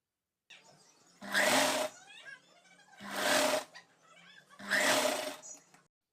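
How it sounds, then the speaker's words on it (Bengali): A domestic sewing machine stitches a sleeve onto a round-neck nightie in three short bursts of whirring, each about a second long, with quieter handling and fabric noise in the pauses between them. "এবার বাকি অর্ধেকটুক সেলাই দিয়ে নেব"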